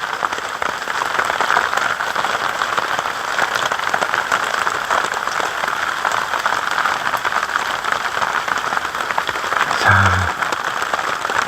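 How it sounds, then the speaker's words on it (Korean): Steady monsoon rain drums on a vinyl greenhouse in a continuous, even patter that stays fairly loud throughout, with a brief low thump near the end. "빗소리도 그렇고"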